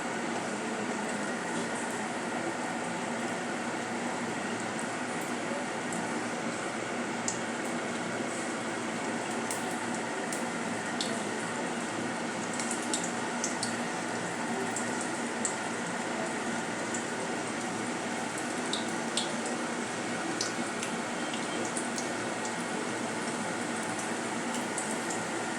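Methi palak vada batter balls deep-frying in hot oil, a steady dense sizzle and bubbling that holds evenly throughout with faint crackles and pops on top.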